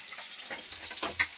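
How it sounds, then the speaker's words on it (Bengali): Eggs fry in a pan with a brief, faint crackle and sizzle, rising to a small spatter toward the end. "এই যে বন্ধুরা ডিম ভাজছি"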